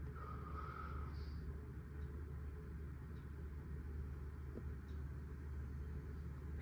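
A wobbly ceiling fan runs on medium speed, giving a low steady rumbling hum with faint intermittent ticks, constant and quiet throughout.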